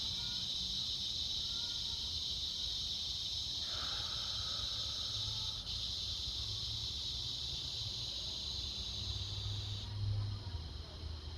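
Insects chirping outdoors in a steady, high, continuous drone, with faint bird calls and low background rumble underneath.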